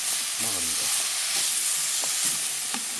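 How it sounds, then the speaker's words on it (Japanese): Onions sizzling steadily in butter in a hot pot for Japanese curry, with a constant broad hiss, a few scraping stirs, and a short spoken remark near the start. "炒めているところです。"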